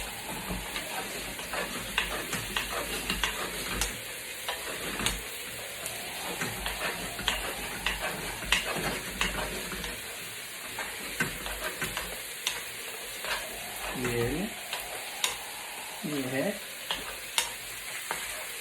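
Ketchup being stirred into a pan of grilled lamb and vegetables, heard as a continuous close sizzle with repeated scraping spatula strokes and a few clicks.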